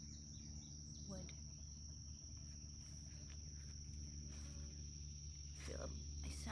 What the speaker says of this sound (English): sounds like a bug buzzing or something